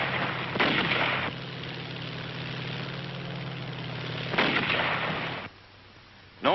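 Artillery howitzer fire on Iwo Jima, heavy booming blasts at the start and again midway, each followed by rumbling decay over a low continuous drone, with no talk.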